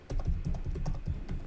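Rapid typing on a computer keyboard while writing HTML code, a steady run of close, distinct key clicks with no voice over them.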